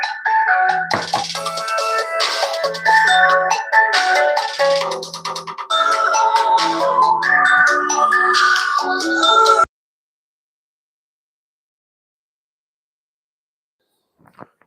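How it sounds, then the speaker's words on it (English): A ringtone for an incoming call on a brand-new phone, a loud melodic tune that repeats for about ten seconds, then stops abruptly and leaves silence. "Got me my first phone call on my brand new phone."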